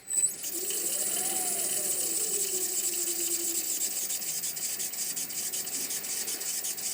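A drill bores a counterbore about 11 mm deep into a wooden face plate, producing a continuous close, high rasping whir with a pitch that rises and then falls early on before settling into steady cutting.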